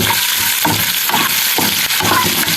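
Cumin seeds and slit green chillies sizzle in hot oil as a tempering, a steady close crackle with a few soft stirring scrapes over low heat.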